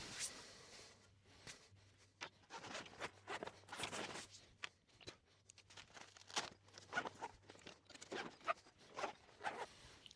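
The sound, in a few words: folding up a Vevor camping kitchen table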